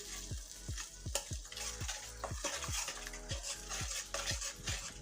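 Spices for beef malai kebab being fried in a pan, a bright continuous sizzle with a steady run of low metallic clinks and scrapes from a spatula, close up and unaccompanied by speech.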